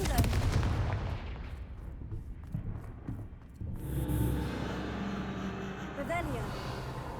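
A Confringo blast spell in Hogwarts Legacy fires with a loud explosive burst and rumbling boom, followed by lingering crackling debris and a second whooshing impact, dense and close.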